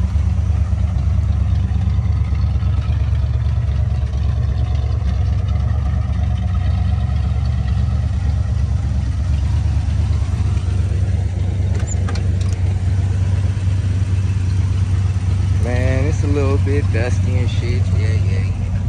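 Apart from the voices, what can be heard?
1972 Buick Skylark engine idling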